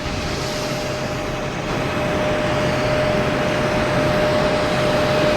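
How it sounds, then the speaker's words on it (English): A JetBlue airliner takes off at Boston Logan Airport, heard as a steady broadband jet roar that swells slightly louder after the first couple of seconds and keeps going without a break. "We have a JetBlue taking off"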